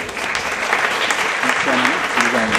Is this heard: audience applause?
yes